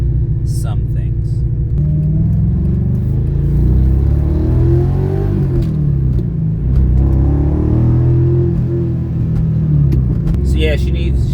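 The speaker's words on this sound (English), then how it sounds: "that's why you hear that noise right now, where the idle is staying up a little longer" A BMW E46 M3 with an LS V8 swap idles high with the air conditioning on, a heavy, loud, steady low rumble that surges slightly and runs continuously under someone talking.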